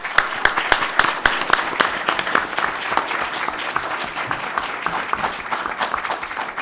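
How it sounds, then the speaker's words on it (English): A conference audience applauds a plenary panel at a research showcase, dense clapping with distinct sharp claps standing out near the front, steady and fairly loud throughout. "Let's give them a round of applause."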